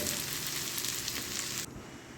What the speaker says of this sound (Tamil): வதக்கின வெங்காயத்தை இந்த அரைச்ச விழுதை ஆட் பண்ணிக்கோங்க.